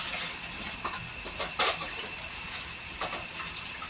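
Water spinach (kangkong) leaves washed in water, a soft continuous splashing and trickling with a few brief sloshes, close and fairly quiet, no talk.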